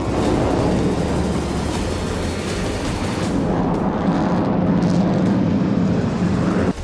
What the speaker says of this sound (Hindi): यूक्रेन के एक एयरबेस से F-16 फाइटर जेट ने उड़ान भरी।